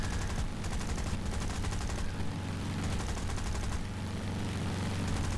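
Rapid 7.7 mm machine gun fire from a Boomerang aircraft in War Thunder, a continuous rattling stream of shots with brief pauses, loud and steady throughout.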